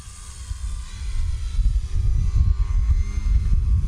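An RC 3D aerobatic plane's electric motor drones as it hangs inverted near trees, a buzzing rumble that rises and swells with throttle changes, fairly close and without voices.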